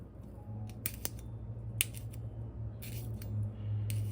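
A straight razor scrapes and swishes against a whetstone in short, uneven strokes with a few sharp metallic ticks, quiet and close.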